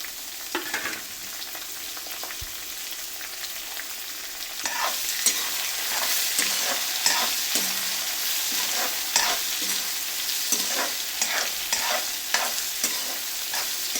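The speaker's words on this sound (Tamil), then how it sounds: "நல்லா வதங்கட்டும். ஆனியன் நல்லா வதங்கிடுச்சு." Onions sauté in a pan with curry leaves, a bubbling sizzle that swells after a quiet start, broken by repeated scraping stirs of the spoon, with no voices.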